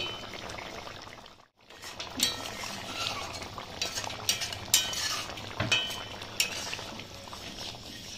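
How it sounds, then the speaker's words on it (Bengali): Mustard oil poured over a raw shol (snakehead) fish curry in a pot, a quiet trickle with light utensil clinks and soft stirring nearby, after a short silent gap, with no talking. "এটা একটু শেষে দিয়ে দিচ্ছি সর্ষের তেল"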